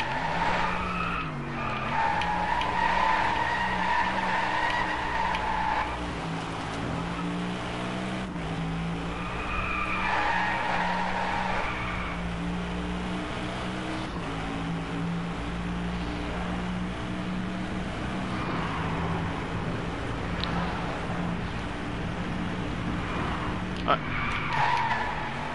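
Race car tyres squealing and skidding through a corner in Driveclub, a long sustained screech over engine drone, while someone talks over it.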